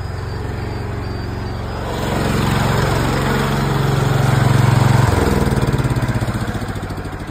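A 1998 Mack Midliner truck with a six-speed and a 6-valve Cummins diesel idles close by, a steady low rumble that swells slightly in the middle and then settles, with no talk over it.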